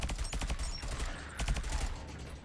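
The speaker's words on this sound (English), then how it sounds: "Let the guns do their thing before I shoot." Automated sentry guns in the first-person shooter tower defense game Sentry fire a rapid, continuous fusillade of mechanical gunfire, loud and close throughout, with no talk.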